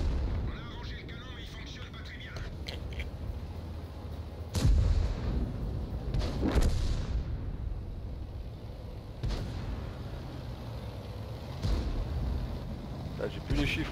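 In the video game World of Tanks, a tank cannon fires several heavy booming shots, a few seconds apart, over a constant engine rumble and battle noise, while someone talks throughout.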